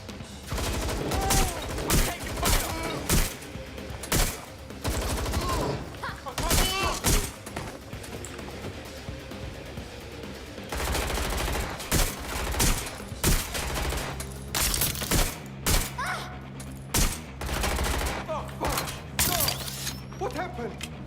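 Repeated bursts of gunfire from a Watch Dogs: Legion gunfight, with sharp shots and automatic volleys spread across the scene, loud and close, alongside game voices and commentary.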